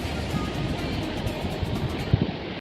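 Rainwater flowing straight down near a temple in Badlapur, a steady close rushing wash of water that cuts off abruptly at the end.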